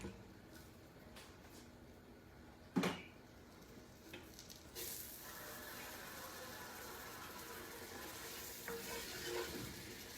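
Butter hits a hot pot while beef stew cooks, breaking into a steady sizzle after a few stirring clinks and a sharp knock, and the frying stays loud and continuous.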